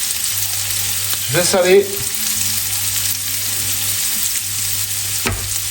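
Bacon and onions sizzle steadily in a pan for a panini, a constant close frying hiss with a brief stir or scrape midway, and someone speaks briefly over it.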